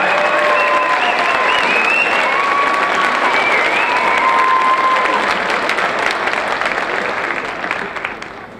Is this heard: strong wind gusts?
no